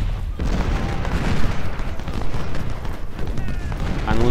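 Cannon artillery fire in the video game Ultimate General: Civil War at the Battle of Gettysburg, a dense continuous rumble of booming shots and battle noise with a voice speaking briefly near the end.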